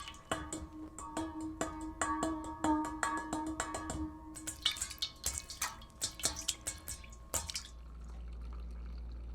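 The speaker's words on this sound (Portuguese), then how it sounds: "Mãos de Márcio tocam a água em uma bacia de alumínio." Hands dip and splash in water in an aluminium basin, giving a run of close, sharp drips and splashes with a quick irregular rhythm that grows busier, then fades into quiet.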